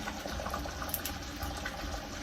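Jaffna-style crab curry boils in a pot, giving a faint, steady bubbling hiss with no talking.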